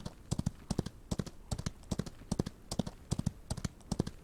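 Horse hooves clip-clop steadily in quick paired beats as a powerful mare is ridden back along a trail in the Old West on a warm day, close and clear with no talk over them.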